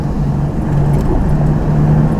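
A black Dodge Charger rolls past on the road nearby, giving a steady, moderately loud engine and tyre rumble that swells slightly partway through, with no talking over it.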